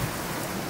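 Steady, dense hiss of heavy rain pouring down in Madinah, a continuous wash of noise with no voices.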